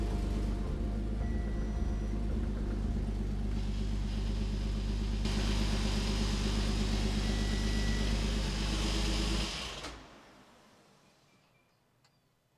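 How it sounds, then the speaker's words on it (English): An Audi S5 runs loud and steady with a low engine rumble and a metal shield scraping near the transmission, then the noise cuts off sharply and fades to near silence. "I forgot to take this shield off. Maybe this was the sound. It was scraping against this."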